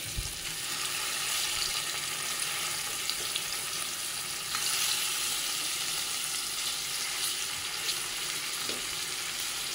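Spicy paneer frying in a covered pan, a constant dense sizzle with a light clatter as a piece is turned over, close and without talk.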